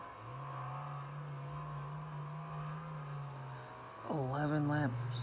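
A race car comes off turn 2 at Bristol Motor Speedway, a steady engine drone under a commentator's voice, then a louder surge of revving engines sweeping past near the end.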